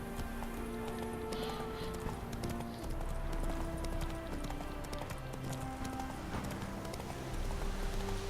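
A horse gallops in The Witcher 3: Wild Hunt, a rapid, steady clip-clop of hooves carrying through the whole stretch alongside game music tones, loud and close.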